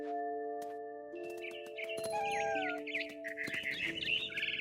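Bird chirps and tweets rise above a sustained, layered musical drone in the video game What Remains of Edith Finch, the calls growing busier and brighter toward the end.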